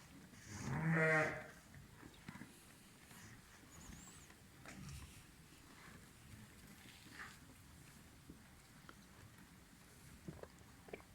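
A single sheep bleats once, fairly close, in a barn at night during lambing, followed by a long stretch of quiet barn ambience with faint scattered rustles.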